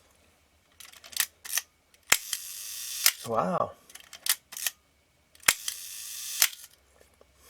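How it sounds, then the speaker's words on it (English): A Nikon F film camera shutter is cocked and fired during reassembly, producing a series of sharp mechanical clicks and clacks with a brief whirring buzz in the middle, close and crisp, with a short spoken exclamation. "So if I cock the shutter,"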